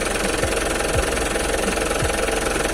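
A Mitsubishi Pajero Dakar diesel engine idles with a steady low rumble and faint rhythmic knock, loud and close, running without talk.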